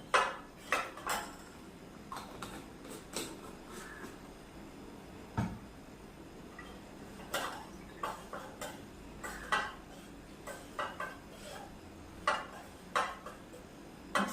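A spoon clinks repeatedly against a bowl, whisking three dressing ingredients including honey for a garden salad; sharp irregular taps and scrapes, close and fairly loud, with no talking.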